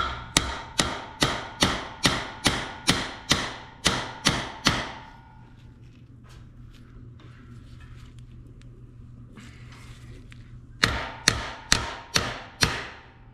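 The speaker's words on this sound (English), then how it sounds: "I'm just gonna pop that with a hammer, and I think it should pop the plug right out." Sharp metallic hammer taps on vise grips, popping out a plug, strike in a quick, even series, pause for several seconds of quiet rustling, then resume in another rapid run.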